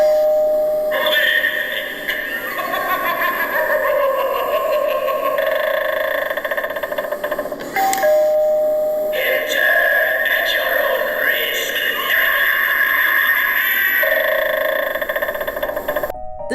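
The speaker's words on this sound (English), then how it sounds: "Once your guest rings the bell, the creepy eye opens and the sinister voice begins to speak." An animated Halloween doorbell eyeball prop chimes when pressed, then a sinister voice speaks over eerie droning effects, and the sequence repeats twice, loud and close.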